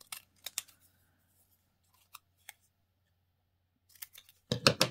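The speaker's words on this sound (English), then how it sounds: "I'm going to cut these little stamps out." Scissors snip out small paper stamps with scattered, quiet cuts, then a denser flurry of louder crisp snipping at the end, close up in an otherwise quiet room.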